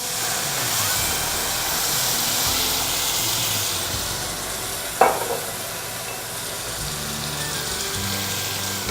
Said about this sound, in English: So I like to put my little bit of wine, red wine.